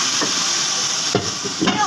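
Onion and cumin tempering fry in a hot pan with a steady sizzle, broken by a few brief stirring scrapes near the end.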